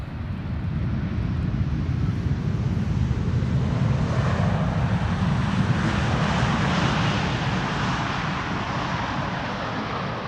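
A KLM airliner arriving from Oranjestad, Aruba lands on runway 18R at Amsterdam Schiphol in IFR weather, a steady, broad jet roar that swells slightly midway and holds at a moderate distance, with no voices.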